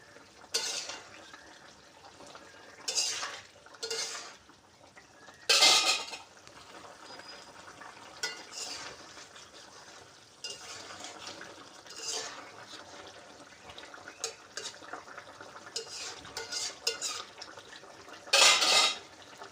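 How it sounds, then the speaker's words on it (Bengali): A spoon stirring cumin paste into a pabda fish curry in a metal pan, with repeated scraping clinks and sharp utensil knocks at irregular intervals over a wet, quiet simmer. "এই জিরে বাটাটা দিয়ে এখন আমি জিরেটা মিশিয়ে দেবো তরকারির সাথে"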